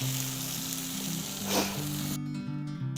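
Onion, ginger and green chili sauté together in a pan, giving a close, continuous sizzle with a low steady hum beneath and a brief swell of stirring midway before the hiss softens toward the end.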